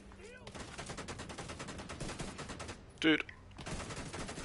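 Gunfire in The Division 2 video game, a rapid automatic rattle that runs steadily under the mix with a brief louder burst partway through, while a player speaks briefly.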